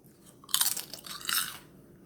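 Close, crisp crunching as freshly fried homemade potato chips are bitten and chewed, in two quick bursts with no talking.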